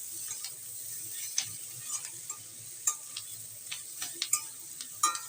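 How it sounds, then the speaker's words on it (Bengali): Tomatoes, vegetables and spices sautéing for a Katla fish head curry, a constant hissing sizzle broken by irregular clicks and scrapes as a spoon stirs the pan, close up. "সব কিছু দিয়ে খুব ভালোভাবে কষাতে হবে"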